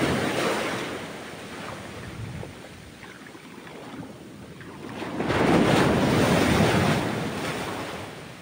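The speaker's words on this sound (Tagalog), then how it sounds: "ang katapat po natin is Pacific Ocean po" Pacific Ocean waves wash onto a beach in the late afternoon, a steady broadband rush of surf with wind noise that swells into a louder, closer surge of breaking water partway through, with no voices.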